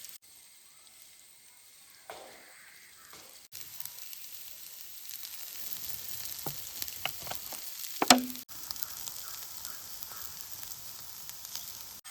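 Soya chunks fry in a pan until well browned, with a continuous close sizzle, occasional spatula scrapes and one sharp clink partway through.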